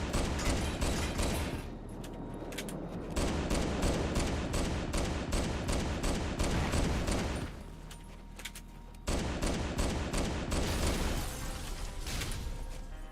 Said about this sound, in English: But what I do have the energy for is shooting this beautiful Magnum.